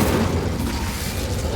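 Incendio fire spell cast in Hogwarts Legacy, a loud, full low boom with a sustained rumbling burst that holds steady for over a second, with no voices.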